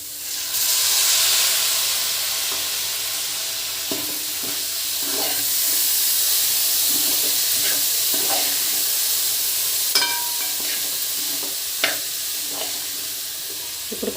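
Cooked mutton keema sizzles and fries loudly in masala, with a constant hiss and scattered scraping stirs repeating every second or two.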